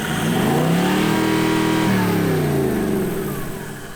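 Toyota VDJ engine revving, loud and close, pitch climbing, holding, then sweeping back down as the rev fades, with no talk over it.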